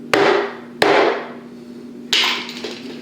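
A regular hammer strikes through cloth to seat bearings into a round plastic hole on a ride-on wiggle car: three sharp, loud, close knocks with ringing decay, separated by uneven pauses.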